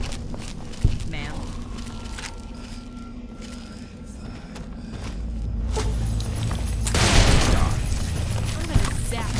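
Gunfire in the Fallout New California game: scattered shots and a dense rapid burst near the end, loud and close, amid vehicle-like rumble, beeping and spoken game dialogue.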